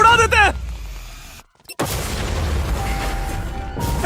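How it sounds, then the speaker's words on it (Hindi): A loud boom blows something up during an escape from police, a heavy blast after a brief silence followed by a rumbling wash of debris, with a voice and a siren-like tone before and around it. "ओह माय गॉश, इसे उड़ा देते हैं।"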